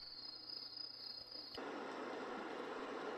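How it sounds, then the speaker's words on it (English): A Q1 Music Light sleep sound machine plays a steady, shrill chirping of synthetic crickets for about a second and a half. It then switches abruptly to a constant hiss of white noise. "Your crickets."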